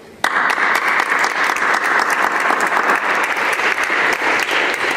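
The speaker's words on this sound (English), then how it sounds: "I think we have to give Medea a lot of applause just for raising hell about stuff that really needs it" An audience bursts into sustained, dense applause at a talk event, starting suddenly and continuing loudly and evenly throughout.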